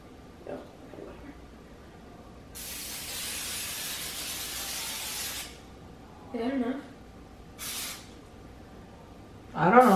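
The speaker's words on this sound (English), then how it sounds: "can't forget to put on your cooking spray" Cooking spray hisses steadily for about three seconds, followed by a couple of short bursts, with faint voices and clatter around it.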